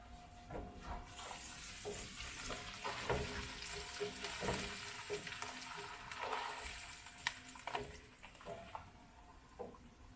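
Onions sweating and frying in a pan for chicken riggies, a steady close sizzle with scattered spoon scrapes and stirring clinks, no talking.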